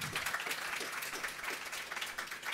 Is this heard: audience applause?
yes